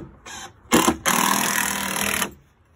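A power drill drives screws through a wooden plate, a short whir, then two bursts of loud steady close motor whine, the longer one over a second.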